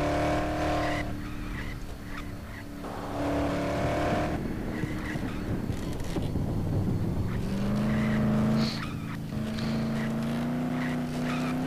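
A car drives in the Dead Island zombie video game, its engine droning steadily and rising and falling in pitch as it revs and shifts, with a scraping skid midway, heard alone without talking.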